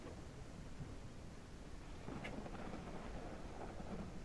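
Steady rain and low thunder rumble from a thunderstorm in the Ranch Simulator video game, a continuous wash of storm noise that swells slightly partway through, with no voices.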